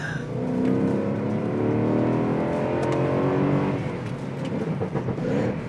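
Mercedes-Benz W204 C63 AMG with its 6.2-liter V8 blips and revs on a downshift, a close, sustained engine roar that rises and falls steadily on its own.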